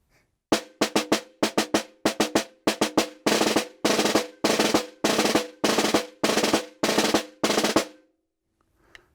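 Snare drum practice pattern ending with eighth-note rolls on the upbeats: sharp close strokes give way to a steady series of buzzy, sustained rolls in even rhythm, played solo and loud.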